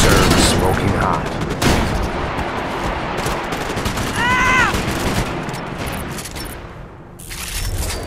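Gunfire in Max Payne 3 on the Favela Heights multiplayer map crackles in rapid, dense volleys of shots and bursts throughout, with a voice speaking over the battle noise.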